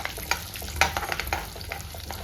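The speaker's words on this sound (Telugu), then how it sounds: "ఆయిల్ హీట్ ఎక్కిందండి, తాలింపు గింజలు వేసేసుకుందాం" Mustard and other tempering seeds sizzle and crackle in hot oil in a pan, a close, busy hiss with small popping bursts, and nobody speaks.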